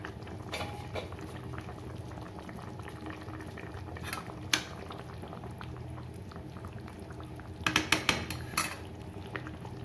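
Rohu fish curry gravy bubbles at a steady boil in a pan, a constant close blipping simmer, with a few sharp metallic clinks of utensils near the end.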